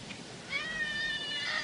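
A pet cat meows in a home kitchen in the morning, one drawn-out, high and fairly close call that starts partway in and holds steady to the end over faint room noise.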